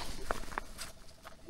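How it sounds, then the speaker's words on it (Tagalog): Rain patters during a storm at an overnight motorcycle campsite, a diffuse hiss with a few sharp, close drops landing in quick succession. "Yung ulan."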